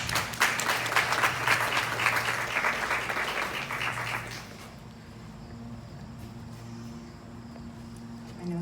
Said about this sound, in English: Please give a hand up for Brittany.